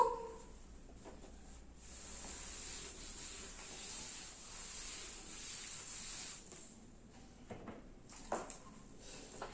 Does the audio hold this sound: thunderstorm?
no